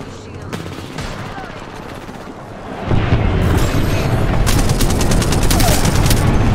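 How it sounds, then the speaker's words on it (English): Video game gunfire from Apex Legends, with steady automatic fire throughout and heavier airstrike explosions rumbling in from about three seconds on, loud and dense. "Signaling an airstrike."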